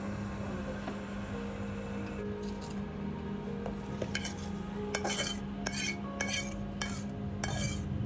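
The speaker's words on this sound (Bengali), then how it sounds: "পুরো তরকাটা ঢেলে দিলাম হচ্ছে মাখানো আলু টক দইয়ের মধ্যে" Curry poured and mixed into mashed potato with yogurt, soft squishing and stirring with repeated spoon clinks against a bowl over a steady low background hum.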